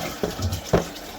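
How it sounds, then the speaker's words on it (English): Toilet being flushed during a leak repair, with short bursts of rushing water and gurgles at close range, fairly quiet and without talk. "Flush the toilet."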